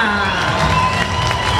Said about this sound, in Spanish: Oigan ese aplauso para Wilmar Andrés, que se escuche a Pía.